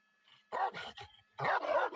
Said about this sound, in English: Dog's inside the cab.